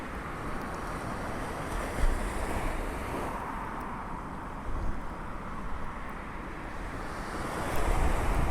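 Ocean waves wash onto a steep sand beach in Kagoshima, Japan, a steady broad roar of surf with swells rising and falling, mixed with wind rumble on the microphone and no talking.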